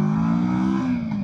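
A 2024 Kawasaki Versys 650 motorcycle engine pulls while riding, a brief loud close drone whose pitch climbs smoothly as it accelerates.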